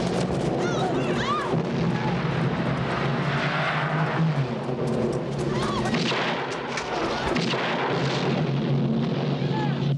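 Dense movie action scene from a 1983 film, loud and continuous, with booming blasts and gunfire-like bursts layered over a busy soundtrack, including an explosion of a red Porsche; voices sit faintly in the mix.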